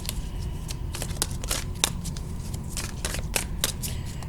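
Tarot cards are shuffled up close in quick repeated riffles and taps, about a dozen crisp bursts over a few seconds, with no voices.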